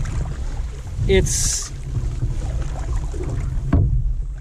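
A canoe paddle dips and pulls through water on a canoe trip, with splashy strokes near the start and end over steady wind and water noise outdoors.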